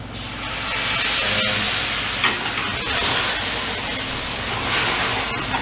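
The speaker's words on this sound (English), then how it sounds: "So we're going to go ahead and add our brandy off the heat, of course." Brandy poured into a hot braising pan bursts into a loud, steady sizzle and hiss that swells and holds throughout, close up with no talk.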